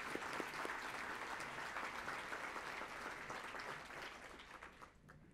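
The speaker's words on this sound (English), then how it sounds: "So let's give him another round of applause for his birthday." A county audience at a State of the County address applauds for a man's birthday, with a sustained, fairly distant round of many hands that trails off at the end.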